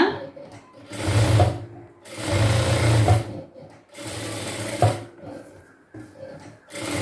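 Sewing machine stitching the lining of a blouse, running in three long bursts of steady mechanical whirring separated by short pauses with small handling clicks.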